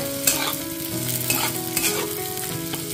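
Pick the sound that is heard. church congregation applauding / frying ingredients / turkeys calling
frying ingredients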